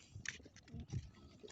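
Young training pigeons coo in low, throaty bursts, a few soft calls close by, with faint bright chirps and rustling in between; no speech.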